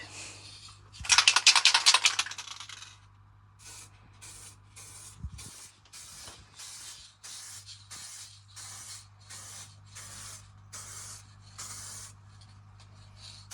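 Rattle can spraying clear coat onto a Harley Benton DIY guitar kit body outdoors, one loud hissing burst followed by a long series of short, evenly spaced spray puffs.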